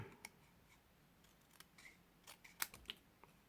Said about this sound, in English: I'm gonna try and cut that straight.